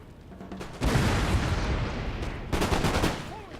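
Musket volleys and artillery fire in the Napoleonic battle game Napoleon Total War, Battle of Waterloo, two dense bursts of crackling gunfire with booms, loud and close, separated by a brief lull.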